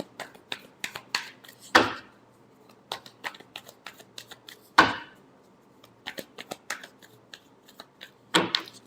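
Tarot cards are shuffled by hand, a rapid run of crisp papery flicks punctuated by three louder riffle-and-snap bursts, close and alone.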